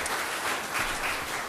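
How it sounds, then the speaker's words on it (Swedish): An audience at an accordion music concert applauds in a steady, dense wash of clapping heard from within the hall, moderately loud and without any voices over it. "Ge Jan en applåd, han lägger ner sånt arbete."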